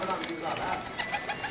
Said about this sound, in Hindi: ये इनके कबूतर आपको दिखाए हैं मंथली हाई फ्लाइंग पिजन